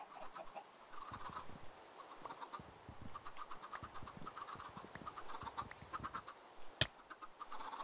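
Video game chickens cluck repeatedly in short, scattered bursts, moderately close, with a sharp click partway through and no talking.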